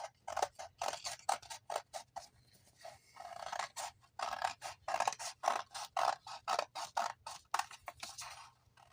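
Scissors trim a paper card piece for an Easter card, making a rapid series of short, close snips and scrapes in uneven bursts, with no talking.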